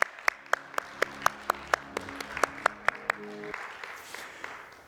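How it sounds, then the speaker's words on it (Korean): A congregation in a church breaks into rhythmic, evenly spaced clapping, a steady beat of sharp claps that stops abruptly and gives way to a faint wash of room noise. "우리 하나님께 한번 박수 할까요?"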